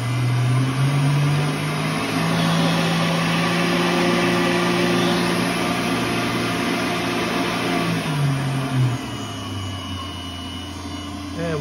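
A Tormach 770 PCNC Series 3 CNC milling machine's spindle runs steadily and then climbs to higher RPM in a stepped rise, a continuous close whine over background hum before it settles back down.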